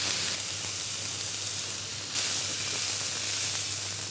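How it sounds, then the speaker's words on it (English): Broccoli, bean sprouts, garlic and ginger stir-frying in a hot wok give a steady, loud, close hiss and sizzle that surges brighter about halfway through. "we're going to quickly stir fry the broccoli"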